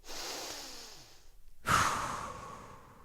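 A long, exaggerated breath during a stretching class: a slow airy inhale, a brief pause, then a loud forceful exhale that fades out, close and alone.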